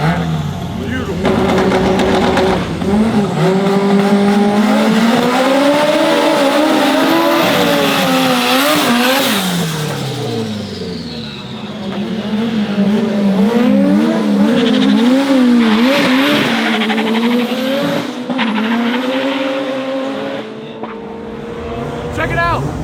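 An orange Nissan S15 drag car makes a pass at a drag event in rural Thailand, its engine screaming and rising in pitch with tire squeal, loud then fading, while people talk and cheer.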